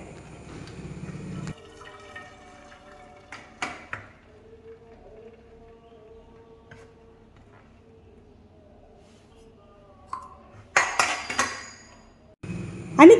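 Water draining off freshly cooked rice: a mostly quiet stretch with faint clinks, then a couple of brief, fairly loud gushing splashes near the end.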